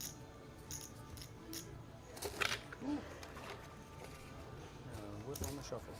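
Playing cards shuffled by a dealer at a live poker tournament final table, giving repeated riffling and crisp card snaps amid casino chatter, with voices talking throughout.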